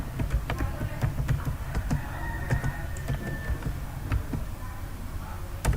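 Computer keyboard typing throughout, a steady run of close, crisp key clicks with a few sharper strikes, as commands are entered on a Windows 11 PC.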